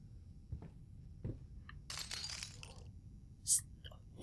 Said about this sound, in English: Stop fucking walking on the glass.